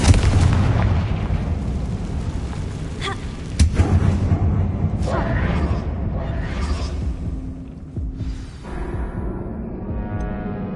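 In Hogwarts Legacy, Confringo fire spells burst with heavy booms and crackling blasts, several impacts over about ten seconds with rumbling tails that fade toward the end.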